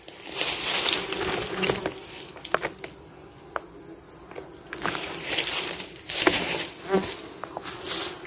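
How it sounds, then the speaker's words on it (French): A small, recently hived honeybee swarm buzzes at the hive: a close, steady insect hum swells and fades in louder surges, with faint clicks and taps mixed in. "je vais visiter le petit essaim que j'ai enruché l'autre jour"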